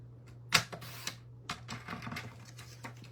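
Designer paper from a Stampin' Up! Regal Winter pack is cut about an inch with a paper trimmer, making a few quiet clicks and short sliding scrapes, soft and close.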